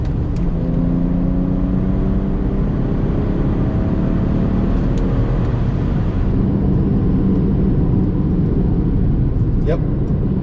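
Tuned 2014 BMW 335i xDrive M-Sport with a JB4 tune pulling in fourth gear, a steady loud engine drone with rising harmonics and heavy road and wind noise throughout, with a voice talking over it.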